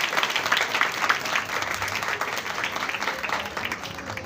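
A congregation applauds during a Sunday Advent Mass, many hands clapping in a fairly soft, steady patter that swells slightly early on and then evens out.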